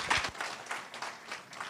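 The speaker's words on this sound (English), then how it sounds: "Let's clap for him." Conference audience clapping after a speaker finishes, a short burst of applause that starts sharply then continues as light, scattered claps at moderate volume.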